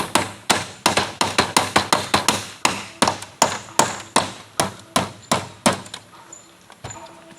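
Repeated hammer blows pound steadily, about two per second, sharp and close, slowing and fading toward the end.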